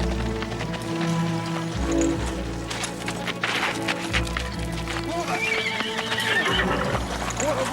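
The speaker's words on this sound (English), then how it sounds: "Stop that horse." A horse neighs and whinnies loudly while hooves clip-clop at a run, close and busy, with a few voices shouting over the commotion in a period drama street scene.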